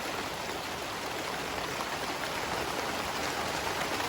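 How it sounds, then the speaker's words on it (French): Steady rain pours down outdoors, a dense, even hiss of drops on surfaces that holds constant throughout with no voices. "Mais il pleut."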